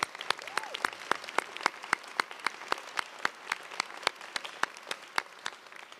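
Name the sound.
applause for university staff at commencement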